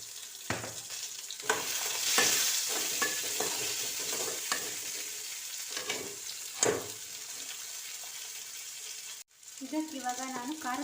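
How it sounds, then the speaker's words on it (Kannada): Chickpeas fry in a pan for a masala, giving a steady sizzle broken by repeated scraping stirs. A brief pause near the end is followed by a short burst of voice. "ಇನ್ನು ಅದಕ್ಕೆ ಸ್ವಲ್ಪ ಕಡಲೆ ಹಾಕ್ಕೊಂಡಿದ್ದೀನಿ, ನಾನು ಫ್ರೈ ಮಾಡ್ಕೊಳ್ಳೋದಕ್ಕೇ ಹಾಕ್ಕೊಂಡಿದ್ದೀನಿ."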